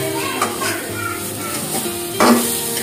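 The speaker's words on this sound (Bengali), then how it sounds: "বেগুন ভাজা হচ্ছে" Eggplant frying in a home kitchen pan, steady sizzle with stirring scrapes and a clatter of utensils, busy household noise throughout.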